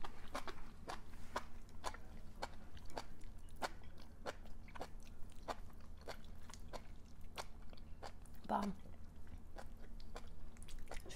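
Close, wet chewing of spicy enoki mushrooms, with steady rhythmic bites and crunchy, squishy mastication repeating about once a second, with no talk.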